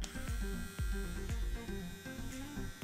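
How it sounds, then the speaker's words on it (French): A StylPro makeup brush cleaner spins with a steady electric whirring hum like a small fan, broken by several sharp low thumps or knocks at irregular intervals, close up and with no talking. "Ah, ça fait ventilateur."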